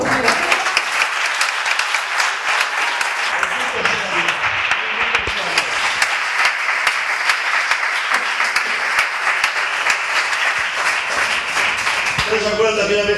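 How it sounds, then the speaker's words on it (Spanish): A church congregation bursts into loud, sustained applause, dense clapping that carries on steadily for several seconds with voices faintly mixed in before tapering off. "Buen aplauso, Señor."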